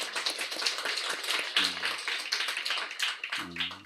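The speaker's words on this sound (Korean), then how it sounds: "우리 하나님께 영광의 박수 올려드리죠" A church congregation applauds with dense, continuous clapping, and brief low tones rise under the clapping twice.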